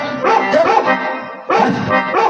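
A dog barks during a Bengali folk stage play, two loud, close bursts of yapping barks with a short pause between them.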